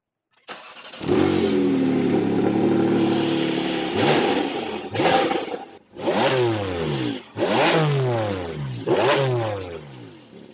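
A Porsche Cayman GT4 RS flat-six starts with a loud bark, holds a high idle, then gets several sharp rising revs in quick succession, each climbing to a scream and falling back, close and with no talk.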